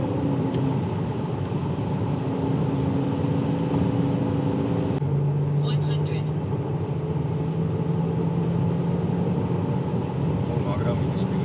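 BMW 740 E38 with a V8 diesel engine accelerating hard, a steady loud in-cabin engine drone that climbs in pitch, drops briefly at a gear change, then rises again.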